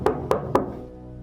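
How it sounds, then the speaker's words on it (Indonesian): Three knocks sound from behind a wall in a back room of an old house, evenly spaced and resonant, each a dull thud with a short ringing tail. "aku kembali mendengar 3 ketukan dari kamar belakang"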